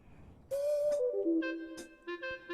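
A Yamaha-style Elite EX/EY electronic organ plays a short smooth foxtrot accompaniment phrase, sustained organ tones sliding between chords with soft rhythmic taps, quiet and clear.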